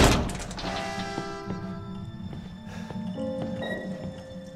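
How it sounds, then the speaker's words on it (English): A heavy metal door-unlocking mechanism opens in Resident Evil 7, starting with a loud clank, then ringing metallic thunks and clicks over a low mechanical rumble that continues for several seconds. "Look at the door unlocking mechanism."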